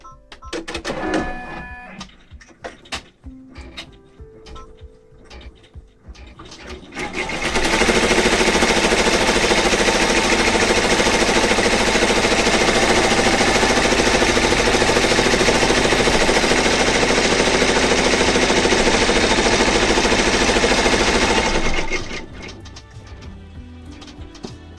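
An embroidery machine stitching out a medallion on a fabric mask: a fast, steady, loud mechanical buzzing rattle that runs unbroken for about fifteen seconds, with quieter clicks and handling noises before it starts.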